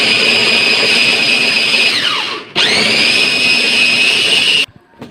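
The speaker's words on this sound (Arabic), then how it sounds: "جبت الكبه، احط البصل، هو مسلوق طبعا فكده كده الكبه هتفرمه" A loud electric food chopper whirs as it minces boiled onions, holding a steady high whine that dips briefly mid-run, restarts, then cuts off near the end.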